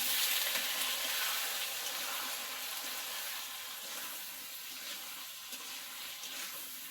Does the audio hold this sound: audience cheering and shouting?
no